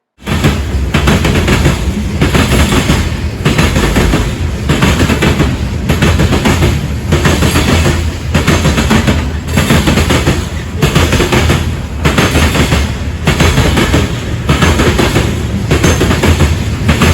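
A Union Pacific mixed freight train led by a KCS locomotive rolls past close by in Rochelle, Illinois, a steady loud roar cut by rhythmic, evenly spaced clanks of wheels over rail joints throughout.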